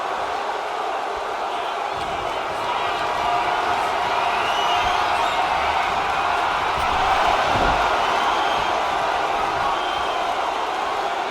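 A wrestling arena crowd at a women's match keeps up a continuous roar of cheering, swelling briefly partway through, dense and spread out around the listener.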